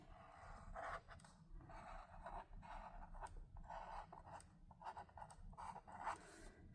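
A Pilot Parallel fountain pen writes a date on paper, a soft, close scratching that runs in short repeated strokes with brief pauses, faint and heard alone.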